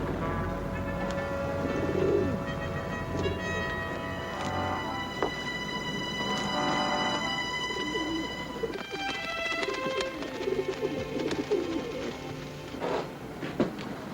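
Pigeons coo repeatedly in a WWII war drama scene, soft rolling calls recurring throughout over a steady tonal background, with no speech.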